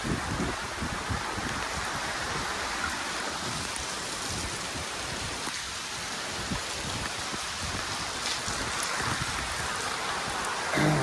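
Steady rain pours down after two days of continuous falling, a dense, even hiss of drops on surfaces that stays loud and unbroken throughout.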